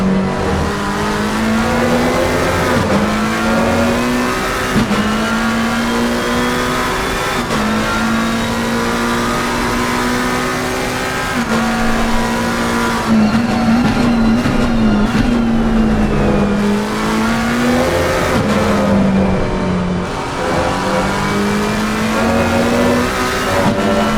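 GT3 race cars, a McLaren and a Honda among them, battle at Imola in a racing video game: loud, continuous layered engine whine that rises and falls through revs and gear shifts, with cars close together and no talking.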